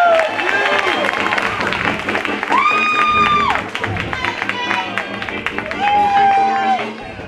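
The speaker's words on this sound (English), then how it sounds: "give him a round of applause" Comedy open-mic audience applause and cheering with whoops, loud and sustained, mixed with overlapping voices and shouts throughout.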